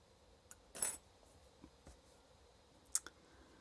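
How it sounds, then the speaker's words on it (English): Scissors snip off a yarn tail on a small crochet Christmas ornament: a few quiet, crisp metallic clicks, one sharper cut near the start and another toward the end, in an otherwise still room. "leaving a bit of a tail, you will snip this off"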